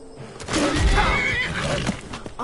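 A horse in the video game Skyrim lets out a loud, close whinny lasting about two seconds, its voice rising and wavering over low thumping game sounds.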